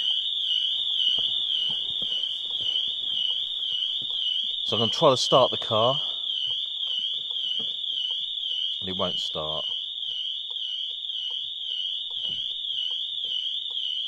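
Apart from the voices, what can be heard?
car alarm going off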